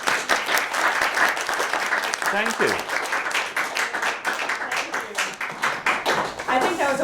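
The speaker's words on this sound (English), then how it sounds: "Can we give a round of applause to Mr." Sustained applause from an audience at a school visit by a poet, a dense, even patter of many hands with voices speaking over it.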